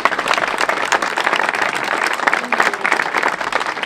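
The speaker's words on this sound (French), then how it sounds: "Vous pouvez les applaudir." Outdoor audience applause at an 80th Liberation anniversary ceremony with a vehicle presentation in Courceboeufs, dense loud clapping from a crowd sustained throughout, with faint voices underneath.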